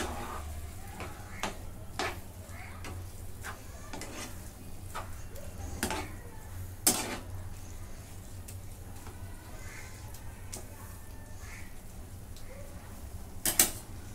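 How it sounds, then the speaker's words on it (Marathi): A spoon stirs a thick mango and jaggery mixture in a metal pot, sharp scattered clinks and scrapes against the rim over a low background hum. "आता सगळं मिक्स करून घेते"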